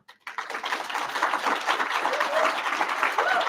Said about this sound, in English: applaud our apprentices' journey and the bright futures that lie ahead